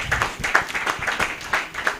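An audience at a career clinic event applauds to welcome a speaker to the stage, a dense and fairly loud burst of clapping from a gathered crowd that continues steadily throughout.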